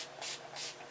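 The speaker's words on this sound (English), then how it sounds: "Then I spray my face, Urban Decay All Nighter." Urban Decay All Nighter setting spray mists onto a face in two quick close hissing bursts.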